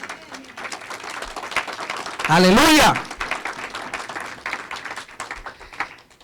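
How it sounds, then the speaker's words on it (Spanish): A church congregation bursts into a brief loud round of applause and cheering in the middle of a sermon, lasting about half a second of peak before the preacher's speech resumes. "¿Le puedo dar un aplauso al Señor por eso?"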